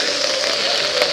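Steady rain patters on and around a 1913 Ford Model T with an all-wood body and natural rubber tires, a continuous even hiss with no talk.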